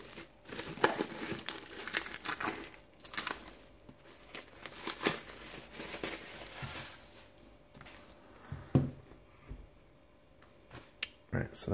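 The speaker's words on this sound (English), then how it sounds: "So let's get it unwrapped and have a look." Plastic shrink wrap being peeled and crinkled off a Star Wars Marvel omnibus book, with close, quiet crackles and sharp snapping bursts coming in irregular clusters and a voice faintly present.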